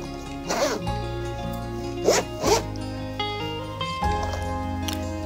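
A zipper on a GoPro Hero 10 Black travel case is pulled open in several quick, close rasping strokes, separated by brief pauses and soft handling rustles.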